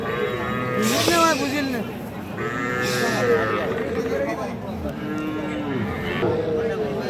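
Calves and young bulls lowing at the Aftabganj cattle market, several loud drawn-out moos rising and falling close by, over constant crowd chatter and voices.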